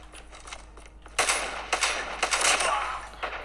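Gunfire from a Call of Duty match comes as loud bursts of rapid shots, sharp cracks in quick succession building after a quieter start.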